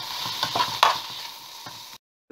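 Prawns and noodles frying in a pan for mixed Hakka noodles, a steady close sizzle with a few stirring clatters, ending abruptly.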